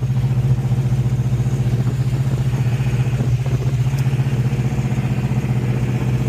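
A Nissan Hardbody truck swapped to a built Ford 302 V8 with an AOD automatic transmission drives along, its engine a steady loud low rumble with fast, regular pulsing throughout, close to the microphone and with no talk.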